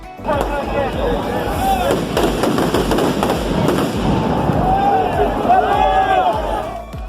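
Fireworks go off during a march amid a noisy crowd, with scattered thumps and pops, whistling streaks, and shouting voices throughout.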